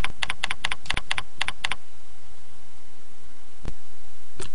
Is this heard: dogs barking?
no